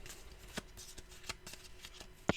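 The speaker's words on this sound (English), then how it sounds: "And let's give them a shuffle." Deck of playing cards being shuffled at close range, a few quick riffling bursts with a sharp final snap, quiet and without talk.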